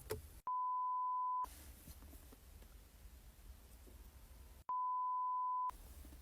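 A phone call connects with two long, steady electronic ringback tones, each lasting about a second and spaced a few seconds apart, over faint background hiss.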